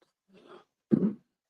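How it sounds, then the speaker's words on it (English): A person clears their throat: a soft rasp followed by a short, louder guttural burst, close and otherwise quiet. "I got to clear my throat"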